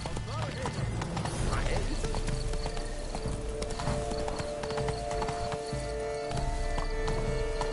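Horse hooves galloping in The Witcher 3: Blood and Wine, a steady clip-clop rhythm close and loud, with a brief whinny and a voice talking over the hoofbeats.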